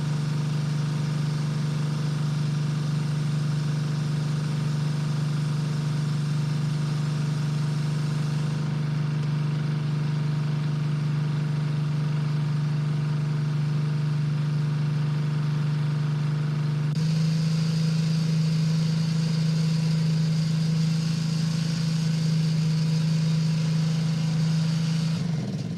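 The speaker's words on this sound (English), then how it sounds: "It's an engine driven unit, so we shut the engine down." An engine-driven sprayer unit runs steadily at a constant idle, a loud, even mechanical drone that shifts slightly in pitch partway through and continues with no talk over it.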